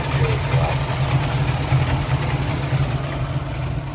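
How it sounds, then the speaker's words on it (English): Alfa Romeo Alfetta GT with its Montreal V8, exhaust burbling at idle in a steady, low, loping rumble, close and fairly loud throughout, with no one speaking. "we'll go have a listen to the exhaust at idle"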